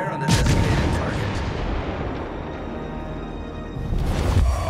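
Naval guns fire in World of Warships aboard the cruiser Worcester, a dense, sustained rumble of artillery with booming onsets at the start and again near the end, loud and continuous throughout.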